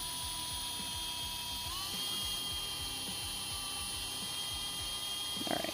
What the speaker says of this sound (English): I'm going to drill this.